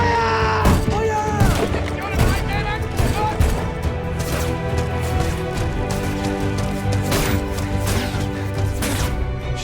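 Dense gunfire in a DCEU movie battle scene, with rapid overlapping shots, crashes and booms filling the scene while voices shout amid the barrage.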